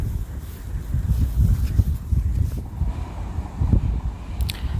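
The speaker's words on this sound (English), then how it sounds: "Pretty windy and gloomy." Steady low wind rumble buffets the microphone outdoors at a lake, gusting in and out with no voices.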